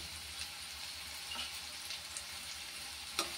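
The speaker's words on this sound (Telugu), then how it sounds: "ఆనియన్స్ ఫ్రై అవుతునేటప్పుడు కరివేపాకు వేసుకోవాలి" Onions frying in a pan for a home-cooked mushroom fry make a faint, steady sizzle, with a brief sharper crackle near the end.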